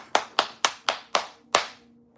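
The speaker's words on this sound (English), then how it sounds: "Clapping is good, spirit." Six sharp hand claps in a slightly uneven rhythm, close and fairly loud, with a quiet pause after the last one and no talk.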